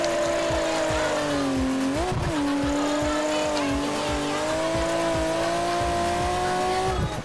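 Car drifting on a wet track in Project Gotham Racing 4, a steady loud engine drone with shifting pitch and tire squeal running throughout, with no talk over it.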